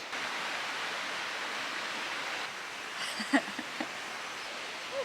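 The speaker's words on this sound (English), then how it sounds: "Listen to that creek." A creek flows near a campsite in New River Gorge National Park, a steady broadband rush of water with a few faint brief sounds rising over it near the end.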